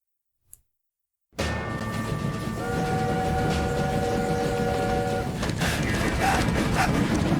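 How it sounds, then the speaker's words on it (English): A train in the video game My Time at Sandrock starts after a short silence with a steady loud rumble and rolling clatter, a sustained horn-like tone running through the middle. "Stop the train."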